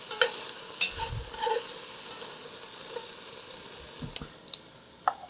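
Tongs stirring sizzling beef in a pot for kale soup, a steady soft sizzle with a few sharp metallic clicks and scrapes, close and fairly quiet.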